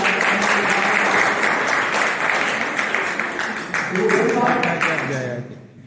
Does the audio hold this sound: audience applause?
yes